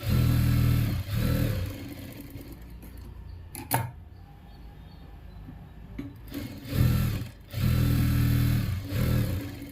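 A sewing machine stitches the piping of a blouse in several loud bursts of fast, steady running, broken by quieter pauses and a few clicks of handling between runs.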